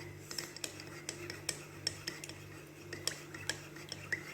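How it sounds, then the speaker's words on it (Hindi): A spoon scraping and clinking against a metal pot while stirring milk for custard fruit trifle, a series of light, irregular taps and scrapes close by over a steady low hum, with no talking. "मिक्स मिक्स मिक्स हम इसको इस तरह से मिक्स करेंगे।"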